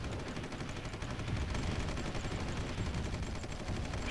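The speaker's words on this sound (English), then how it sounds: "Shooting missiles at me right now." Missile fire in a Supreme Ruler Ultimate battle: a dense, continuous barrage of crackling, rattling blasts that fills the whole stretch at steady loudness with no pauses.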